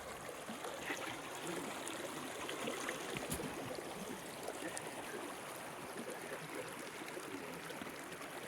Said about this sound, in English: I just can't stop videoing the water